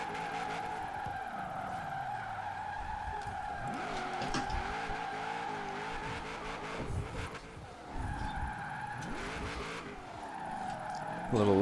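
An Impala SS drifts in the racing game Forza Horizon 4, its tires squealing and skidding continuously over a revving engine that rises and falls as the car slides through corners.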